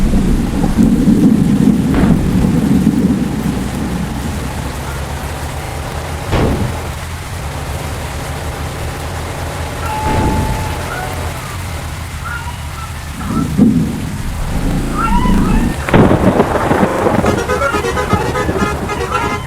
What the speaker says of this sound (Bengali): তো বৃষ্টি হয়ে গেল